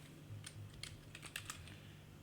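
Quiet typing on a computer keyboard while entering LaTeX commands, a handful of light irregular key clicks over a faint low hum.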